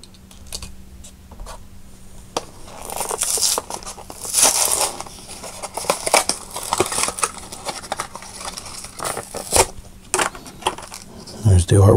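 Hot Wheels Car Culture blister packs are torn open up close, with crinkly plastic and cardboard tearing, crackling and scattered taps across several seconds.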